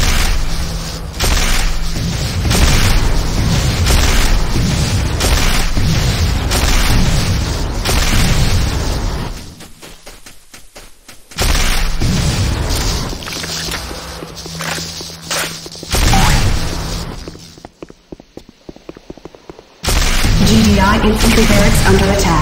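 Heavy booming blasts of buildings exploding in the video game Renegade (Command & Conquer) roll through a loud, dense game soundscape, with repeated explosive bursts and rumbling debris, broken by brief quieter gaps.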